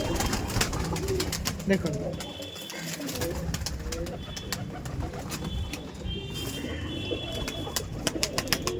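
Restless pigeons at a Behala loft coo and flutter close by, with sharp wing claps near the end, while someone talks over them much of the time.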